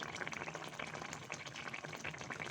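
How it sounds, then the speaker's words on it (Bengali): Hot cumin tempering poured over a pabda fish curry cooked with tomato paste gives a steady, close sizzling hiss that runs unbroken throughout. "এখন আমি দিয়ে দিচ্ছি এর উপরে গরম গরম জিরার"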